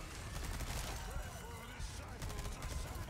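Rapid submachine-gun fire in the Resident Evil 4 video game during the final boss fight against Saddler, dense continuous bursts of shots in a busy game mix, heard faintly.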